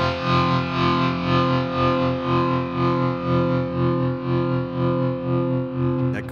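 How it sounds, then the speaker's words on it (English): A sustained, heavily distorted overdrive electric guitar from the VSL Synchron-ized virtual instrument, holding chords in fourths with a swirling, pulsing modulation effect throughout, loud and alone. "And the totally freaked out overdrive flying around sound."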